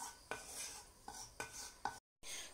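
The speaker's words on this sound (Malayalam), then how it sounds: "ഇനി മുളക് പൊടിയും കൂടി ചേർത്ത് കൊടുക്കുകയാണ്. അതിൻ്റെ ആ ഒരു പച്ചമണം മാറുന്നതിനു വരെ ഒന്ന് വഴറ്റിയെടുക്കാം." A spoon stirs chili powder being sautéed in a pan for a Kerala-style coconut fish curry, giving four distinct scraping strokes against the metal pan with quiet frying underneath.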